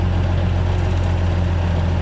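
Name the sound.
tractor engine idling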